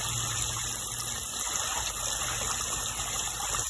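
Water trickles and gushes steadily through a tiny stream in Central Texas, a constant close wash of flow with no voices.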